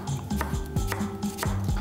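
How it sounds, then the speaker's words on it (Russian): A knife chops an onion rhythmically on a cutting board, several crisp thumps in quick succession, close up with no talking. "Дорежем маленько лука."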